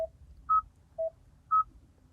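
A Kia Niro gives four short electronic chime beeps that alternate between two pitches in a quick, even rhythm. The beeps are clean and fairly quiet, and nothing else is heard.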